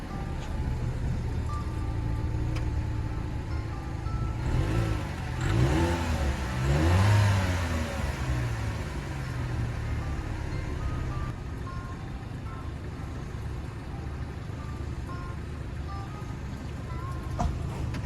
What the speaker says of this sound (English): show you guys the exhaust note, hear what that sounds like